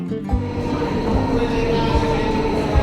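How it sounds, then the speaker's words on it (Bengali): A Jungfrau railway train pulls in high in the Swiss Alps, a steady rumbling rail drone with faint rhythmic wheel knocks, heard close and continuous. "জুমফ্রয়ে ট্রেন আসছে"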